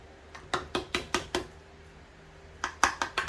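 A metal utensil cuts through baked eggplant parmigiana in a dish, producing a rapid series of sharp clinks against the dish, a burst of five, a pause, then four more.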